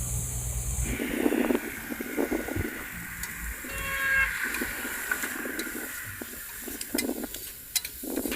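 Onions and curry leaves sizzle in a pan at a van-life campsite, a steady hiss with crackling bursts that continues throughout, fairly close, with faint background noise.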